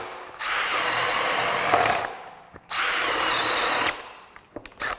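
A Craftsman CMCD731 brushless hammer drill bores holes in two loud, sustained bursts about a second and a half each. Steady high whine at full speed, then it stops, followed by small knocks and clicks.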